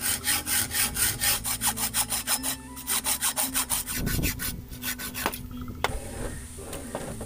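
Hand saw cutting a piece at an angle for a homemade trigger, with fast rhythmic back-and-forth rasping strokes close up, a short pause, another burst of strokes, then slower scraping.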